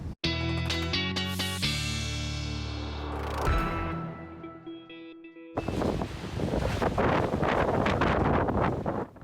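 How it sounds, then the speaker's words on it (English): Gusty wind in Brampton during an outdoor winter news report: after a short bright musical sting, loud broadband wind roars and buffets the microphone in uneven surges, with no voices. "Angelina was talking about the wind in Brampton"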